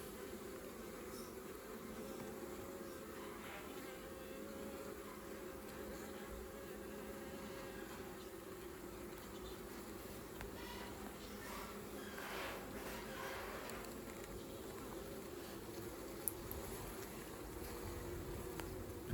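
Honey bees hum steadily around an open hive during maintenance on a long mini hive, a continuous close buzzing drone throughout with no talking.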